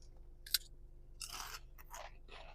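Cheesy corn chips, a Thai snack from 7-Eleven, crunched close to the mouth: one sharp bite crack followed by several bursts of crisp, crackly chewing, with no talking.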